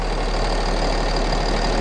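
A Cummins ISB 6.7 liter turbo diesel engine rated at 250 horsepower idles in a 2013 Thomas Saf-T-Liner school bus, giving a steady, loud, close rumble with an even low drone throughout.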